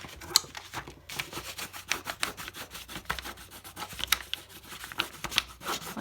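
Rapid, crisp snipping and rubbing of scissors through paper, a steady run of short scratchy cuts at close range with no talk.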